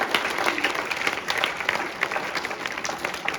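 Children applauding at a school Earth Day event, a brief burst of dense, crackling clapping from a crowd, steady and close with no talk over it.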